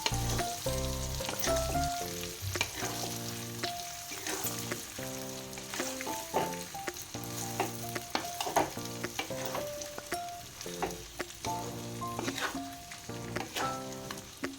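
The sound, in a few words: mixing mango pickle with spices and mustard oil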